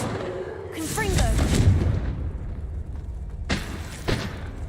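Confringo fire spell blasts in Hogwarts Legacy: a voice casting a spell early on, then two sharp, broadband booming bursts close together near the end over a low rumbling background.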